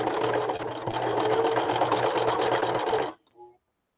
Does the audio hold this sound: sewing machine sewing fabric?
yes